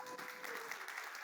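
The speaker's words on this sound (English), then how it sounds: "you don't have to clap" Audience applause at a tech talk, a soft continuous patter of clapping from a room of listeners, fairly faint and even throughout the brief moment.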